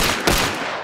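Gunfire in the first-person shooter Hunt: Showdown, a loud, dense burst of shots crowding together with a sharper peak near the middle, filling the short moment with no talk over it.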